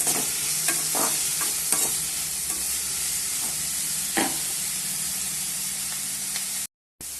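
Chopped onion, ginger and garlic sizzle steadily in a hot pan, with scraping stir strokes scattered through the continuous frying hiss and no voices.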